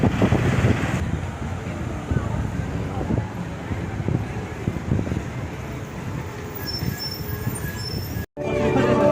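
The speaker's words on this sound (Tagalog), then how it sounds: "mahangin ngayon mahangin" Steady wind buffets the microphone in a low rumble throughout outside Santo Niño Church in Cebu City, with a brief dropout near the end.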